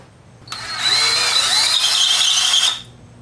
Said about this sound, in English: So our first drill was spinning it all weird and crooked